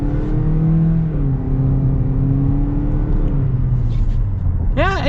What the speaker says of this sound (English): Oh, let's get our acceleration here.